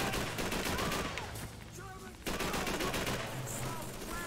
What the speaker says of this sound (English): They're fucking shooting me.